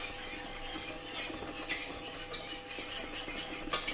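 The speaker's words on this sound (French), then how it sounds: "Voilà, donc le beurre mousse, je verse la farine. On va faire cuire la farine comme ça pendant 2-3 minutes." Butter and flour roux for a béchamel being stirred in a pan on the stove, a soft continuous scraping and swishing with light clinks of the utensil, fairly close and with no talk.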